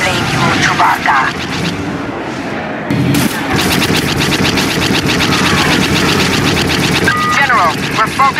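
Blaster fire during a space ship battle in Star Wars Battlefront 2: a loud, dense, continuous barrage of rapid laser shots and explosions with roaring engines, heavy and nonstop, with voices talking over the combat.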